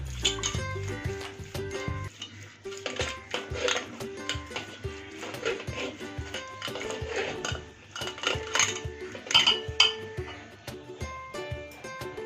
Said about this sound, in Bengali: এবারে এই ডালের কাঁটাটা দিয়ে ডালটা একটু ঘেটে নেব।